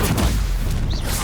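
A stunning spell fired in Hogwarts Legacy, a short loud boom-like blast with a crackling burst, followed by a brief rising zing near the end.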